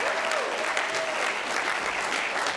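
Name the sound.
audience applause for chief of staff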